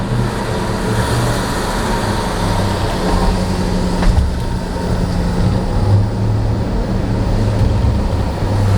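A Jeep Trackhawk engine with an aftermarket Bwoody intake gives a steady, loud rumble with a deep, continuous low drone and a broad hiss on top, sustained throughout without any talking.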